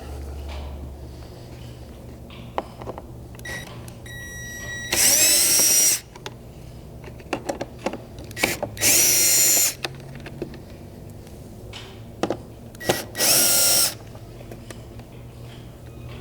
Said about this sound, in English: we're going to start by removing all the Phillips head screws that are holding it in place